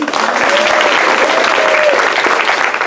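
A large crowd applauds loudly and continuously, with dense clapping filling the whole stretch and some cheering mixed in.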